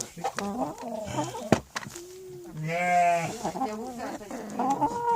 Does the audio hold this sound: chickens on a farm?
yes